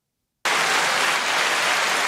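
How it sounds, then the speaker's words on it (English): A canned applause effect fired from a podcast soundboard cuts in suddenly out of silence and keeps going as a loud, even, continuous burst of crowd clapping with no talk over it. "You got to turn off applause, Phil. It's still applauding."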